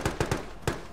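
A grenade explosion in the military shooter ArmA 3, heard as a rapid string of sharp cracks: three quick pops close together, then one more after a short gap.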